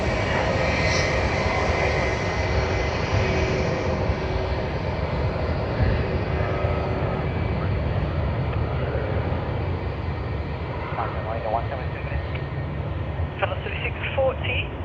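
A Batik Air jet taking off at Sydney Airport gives a steady, broad engine roar that holds for the whole stretch, with voices speaking over it throughout.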